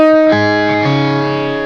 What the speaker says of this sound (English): And I'm going to do a sus 4 note on it.